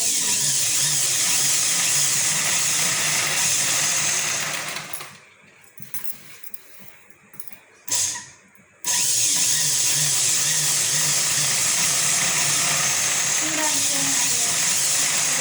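Sewing machine stitching a blouse, a continuous fast whirring hum that stops briefly in the middle with small clicks before running again, close and steady.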